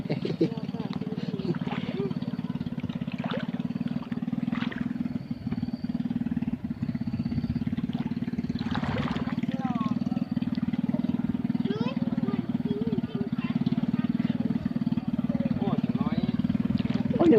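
A tractor engine chugs steadily and loudly throughout during a flood, a low continuous rumble with occasional clanks and people talking over it.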